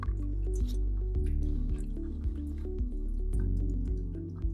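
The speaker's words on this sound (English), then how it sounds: "And we're just going to let it drain out." Liquid kava drains from a strainer bag, close wet drips and small squishy splashes falling into liquid below in an irregular, continuous patter, with no voices.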